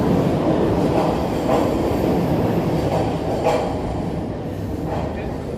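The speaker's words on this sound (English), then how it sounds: "I hear a train." A train rumbles past close by on a Toronto street, a steady loud roar of wheels on track with faint squeals and clatter throughout.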